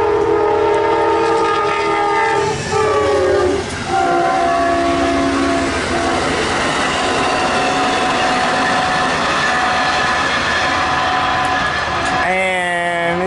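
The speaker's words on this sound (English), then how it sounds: "Amtrak 91, the Silver Star." Amtrak 91, the Silver Star passenger train, rolls past loud and close with a drawn-out horn blast, then rumbles and clatters along the rails and ends with a second horn call.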